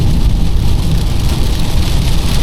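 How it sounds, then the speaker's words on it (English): Rain drums steadily on a 2025 VW T-Cross driving on a highway, mixing with constant road and engine noise inside the cabin, loud and unbroken with no talking. "we're also experiencing it in the rain now"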